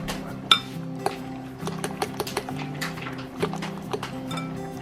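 A fork whisking a single egg, scraping and clinking against the bowl in quick irregular taps, close and fairly clear with no talking.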